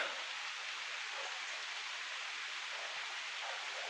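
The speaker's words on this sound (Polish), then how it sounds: "nie wiem czy czasem nie słychać tego jak po liściach deszcz leje" Steady rain falls on leaves, a constant soft hiss with no other sounds.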